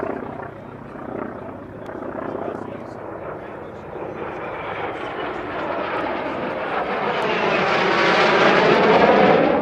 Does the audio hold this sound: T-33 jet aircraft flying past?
yes